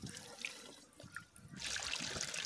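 Pesticide for maize mixed in a bucket is poured into water, giving a steady splashing trickle that swells louder and fuller in the second half, alone without talk.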